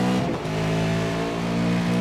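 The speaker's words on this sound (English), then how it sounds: "fanning the throttle as he slid the car off the corner" A Supercars race car in a video game has its throttle fanned coming off a corner at Spa-Francorchamps, a short burst of loud, wavering engine revs with quick blips rising and falling.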